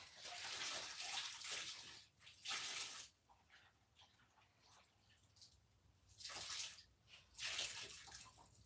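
Water splashes and swishes in bursts as fibre is wetted out in a tub before dyeing, with quieter gaps between the sloshing, close and soft, with no talk.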